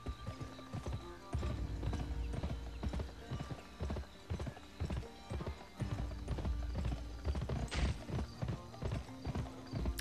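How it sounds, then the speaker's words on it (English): Horse hooves clip-clopping in an open-world western video game, a steady rhythmic trot of sharp hollow knocks up close, with a brief whinny and faint talk. "Oh, there's a horse!"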